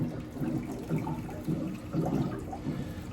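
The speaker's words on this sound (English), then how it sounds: "I have a water dispenser here. And I will get some water." Water pours from a dispenser in a home in Cebu City, Philippines, a steady splashing stream rising and falling in gentle surges, close by and moderately quiet, with no talking.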